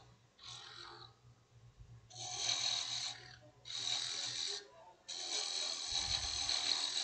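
Wood lathe turning a small ornament finial, a steady gritty cutting hiss in three long bursts separated by brief pauses, with a low motor hum underneath and no talking.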